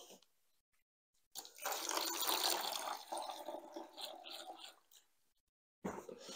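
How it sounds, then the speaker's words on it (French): Water poured into wall paint to thin it for a Wagner W660 spray gun, a broad splashing pour lasting about three and a half seconds, close and fairly quiet, with brief handling noise afterwards. "je vais venir la diluer. Voilà, là il en fout de l'eau."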